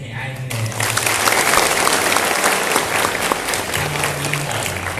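An audience applauds at an IT vocational education open event, sustained and fairly loud for several seconds, with a speaker's voice over the start and end.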